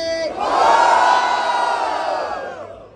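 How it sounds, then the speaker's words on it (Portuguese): Crowd at a Brazilian street rap battle erupts in loud cheering and shouting for one competitor's rhymes, a single sustained roar swelling quickly and fading out over a few seconds. "barulho quem gostou das rimas de WM."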